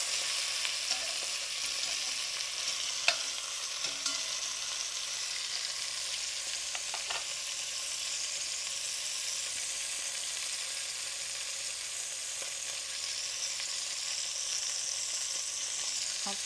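Short ribs sear in a pan with a steady, close sizzle that holds throughout, broken by a few light clicks of the meat or utensils and no talking.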